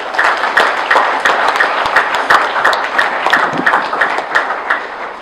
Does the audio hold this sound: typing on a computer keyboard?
no